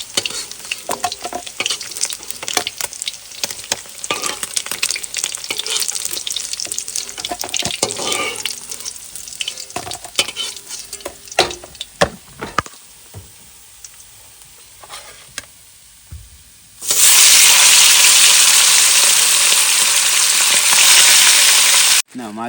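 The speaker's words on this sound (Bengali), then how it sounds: "বাকি কটা ভেজে নেবো" Fish sizzles and spatters in hot oil in a pan, a continuous crackling hiss with occasional stirring clatter, then a loud steady rush of water from a tap near the end.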